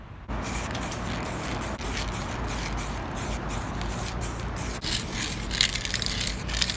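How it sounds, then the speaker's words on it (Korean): Spray paint hisses steadily from an aerosol can onto a homemade Pepe frog Halloween figure, a close, continuous spray broken by a few short pauses and can rattles. "그 다음은 이렇게 스프레이로 어, 색을 칠합니다."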